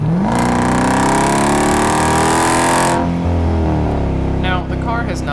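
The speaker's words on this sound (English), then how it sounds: "an AFE SS catback exhaust with no resonators for that clean sound" A loud V8 engine of a 2014 Jeep Grand Cherokee SRT on E85 with an AFE catback exhaust without resonators revs hard, pitch climbing steadily through a throaty exhaust roar, then drops back to a deep burbling idle.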